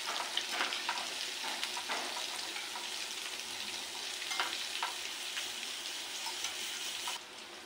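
Large brinjal slices fry in a pan, giving a steady, close crackling sizzle with occasional clinks and scrapes of stirring throughout.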